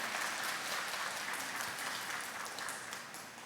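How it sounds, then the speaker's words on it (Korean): Steady audience applause at a Korean book-reading lecture on Don Quixote, a dense wash of clapping that stays even throughout, then begins to thin out near the end. "박수 좀 터뜨리세요."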